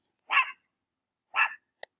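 A puppy barks twice, about a second apart, loud and close in a quiet indoor room, followed by a brief sharp click.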